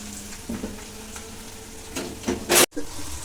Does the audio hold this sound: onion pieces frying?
yes